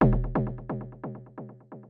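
Sparse synth stabs in a warehouse techno track, each note trailed by dotted eighth-note delay echoes that decay in a bouncing rhythm, fairly quiet and alone.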